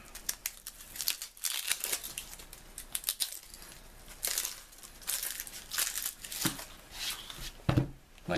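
Papery outer skin being peeled and crinkled off a red onion by hand, a run of dry crackling rustles and tearing crinkles, close and fairly loud, with no talking.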